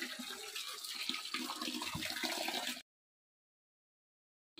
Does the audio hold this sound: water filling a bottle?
yes